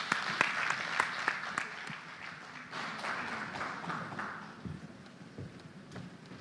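Applause for jury members at an awards event, a crowd clapping steadily throughout at moderate distance, fading slightly toward the end.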